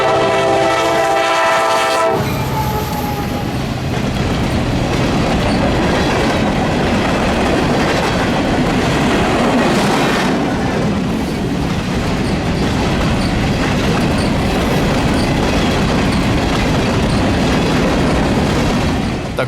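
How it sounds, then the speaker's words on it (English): A freight train on the North Mountain subdivision in the Shenandoah Valley sounds a brief horn, then rumbles past loud and close with steady wheel and car noise throughout. "C001 was one of an exciting 3 freight trains on the North Mountain sub this morning"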